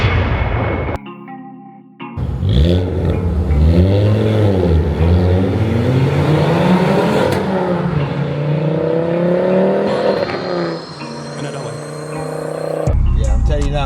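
A Ford Focus ST's 2.5-liter turbocharged five-cylinder pulls through the gears with rising and falling engine tones heard from inside the car, loud and close, while people talk over it.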